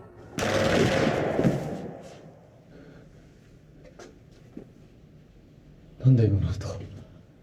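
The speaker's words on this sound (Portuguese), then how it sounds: "E tipo assim, tiro de metralhador." A loud burst of rapid machine-gun fire crackling from a TV series, then quieter clatter, and another sharp burst near the end; a voice talks faintly underneath.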